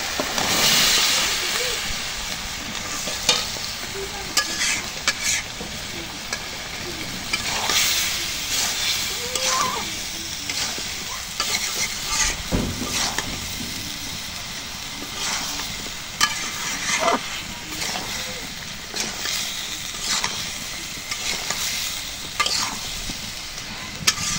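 Fish from the sea sizzles with ridge gourd and mustard in a hot pan, with steady frying hiss, a spatula scraping and stirring at intervals, and a voice speaking now and then over the cooking.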